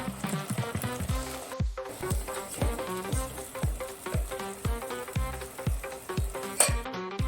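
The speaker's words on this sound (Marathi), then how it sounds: "हा मसाला घेतलाय, हळद, मटन मसाला आणि हा घरगुती मसाला आहे, तो आपण त्यात टाकणार आहोत।" Turmeric, mutton masala and homemade spice masala fry in hot fat for a goat head curry, a close steady sizzle broken by rhythmic scraping stirs about twice a second, with no voices.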